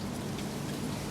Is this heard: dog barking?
no